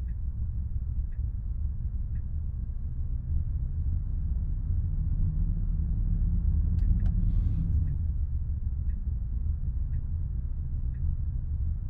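A car engine in the CityDriver driving game hums as a steady low rumble, with a soft turn-signal tick repeating about once per second throughout.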